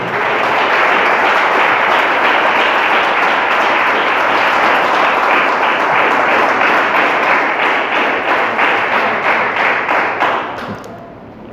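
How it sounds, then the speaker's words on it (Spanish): A church congregation applauds together, loud, dense clapping sustained for about ten seconds before tapering off at the end, with no voices over it. "Denle un aplauso al Señor, denle un aplauso al Señor."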